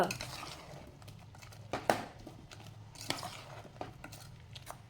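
A spoon stirs pumpkin erissery curry in a pot, giving soft clinks and scrapes against the metal with a few sharper knocks. The sound is faint and close, with a low steady hum underneath.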